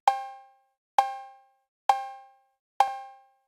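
Four evenly spaced cowbell strikes, each a bright metallic clank with two pitches, the higher seven semitones above the root, decaying quickly, with no other sound between.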